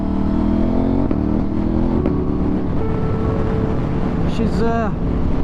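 KTM motorcycle ridden on dry country roads in the Derbyshire countryside, a steady close engine drone with wind rush and a brief rising rev near the end.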